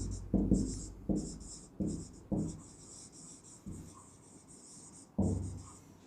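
Marker or chalk strokes on a board during a physics lesson, a series of sharp scratchy taps and short squeaks in an uneven rhythm, close and fairly clear with no speech over them.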